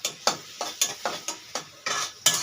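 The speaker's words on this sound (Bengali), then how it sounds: "এখানে গরম মশলা তেল দিয়ে দিচ্ছি।" Garam masala hits hot oil in a pan with a spoon scraping and stirring, about eight sharp, close scrapes in a steady rhythm over a light sizzle.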